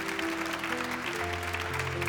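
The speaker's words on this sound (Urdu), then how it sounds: "ہمارے بھائی حسین کے اعزاز میں زوردار تالیاں" Enthusiastic applause from a studio audience honoring a guest on a TV show, a steady dense wash of clapping throughout with a faint musical tone beneath.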